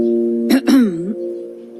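A single close throat clear, two quick rough bursts followed by a brief voiced hum that trails off, loud and alone.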